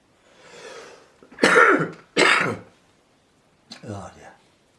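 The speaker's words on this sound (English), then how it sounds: "Cough, cough, cough." Several harsh coughs in two close bursts, with a softer breathy sound before and a shorter cough-like burst after, from someone at a watercolour painting session.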